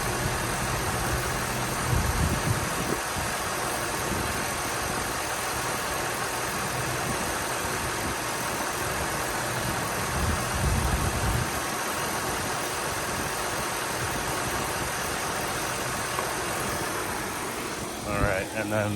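A 2004 Jaguar XJ8 engine idles in a smooth, steady low rumble close by, with slight swells near the start and middle.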